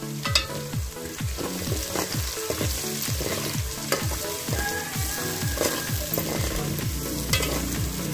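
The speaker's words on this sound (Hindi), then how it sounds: "अब इसे कम से कम 5 मिनट तक मैं फ्राई करूंगी दरमियानी आंच पे।" Crushed garlic and six medium green chillies fry in a pan over medium heat for a cauliflower manchurian, a steady loud sizzle with repeated scraping stir strokes throughout, no voices.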